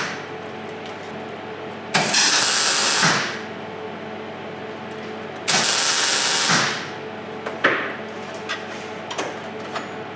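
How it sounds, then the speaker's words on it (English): A MIG welder tacks a steel floor panel in place on a Super 7 Locost kit car build, giving two bright crackling bursts of about a second each, a shorter third zap, and a few faint clicks in between. "Spot welding it into place."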